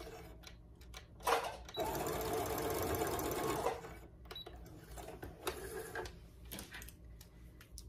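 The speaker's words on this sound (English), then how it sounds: "Be careful while you're sewing." A sewing machine stitching a seam in a wool coat runs in one loud continuous burst of about two seconds, with softer mechanical clicks and handling before and after, heard up close.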